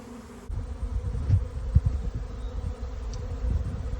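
A honey bee swarm being settled into a box gives a dense, continuous buzzing hum that sounds close and moderately loud, with occasional knocks and bumps.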